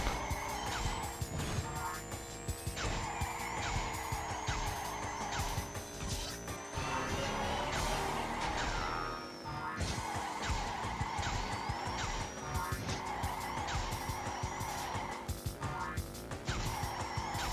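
Kart engine in Crash Nitro Kart: a continuous buzzing engine tone rising and falling with speed, with brief skids, layered under loud game music throughout.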